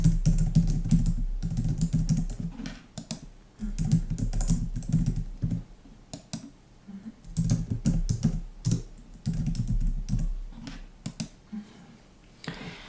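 Fast, soft tapping on a computer keyboard comes in bursts of rapid clicks with short pauses, close up and quiet in a calm ASMR-style setting, with no talking.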